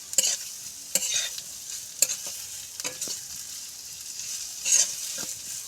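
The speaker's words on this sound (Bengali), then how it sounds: "পেঁয়াজ এইভাবে আমি নেড়ে চেড়ে ভেজে নেব।" Sliced onions fry in a pan with a soft sizzle, while a spatula stirs and scrapes in sharp strokes roughly once a second, close and without voices.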